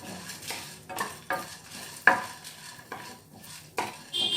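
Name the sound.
ingredients roasting and being stirred in pan for rasam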